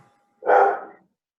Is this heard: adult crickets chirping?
no